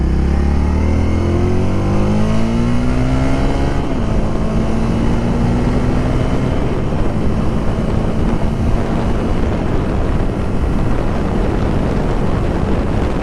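A Honda Rebel motorcycle engine revs up through rising pitches while riding, then settles into a steady loud drone mixed with heavy wind rush across the microphone, with no talking.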